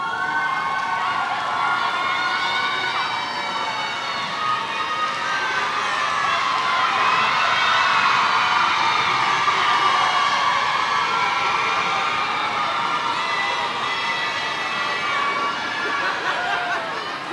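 Graduating students at a Northeastern High School graduation ceremony cheer and clap for their parents, a sustained mass of crowd cheering and applause filling a large hall at an even, loud level throughout.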